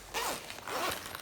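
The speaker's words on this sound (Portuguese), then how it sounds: "Eu vou abrir esse zíper aqui" Zipper pulled open on a handmade sewn emoji-face bag with two compartments, two quick close rasping strokes in succession, crisp and alone.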